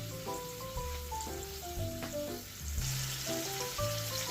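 Beef patties brown in a little oil in a hot pan, a steady close sizzle and crackle running throughout with no one talking, while melodic tones sit in the background.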